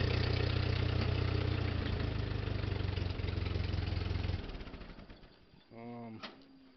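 A Ford 8N tractor engine on a rebuilt carburetor chugs steadily in a loud, close idle, then dies away, and a voice speaks briefly near the end.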